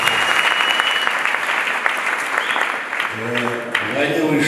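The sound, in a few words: audience applause at church service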